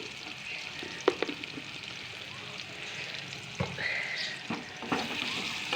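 Onions frying lightly in a pan with a steady soft sizzle, broken by a few sharp clinks and stirring knocks, with no talk.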